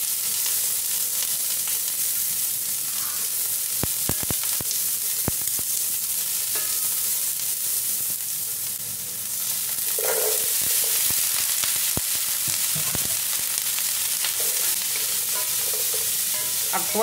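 Garlic fries in a pan, browning with a constant crackling sizzle, broken by occasional clicks and scrapes of stirring utensils against the pan, with no voices.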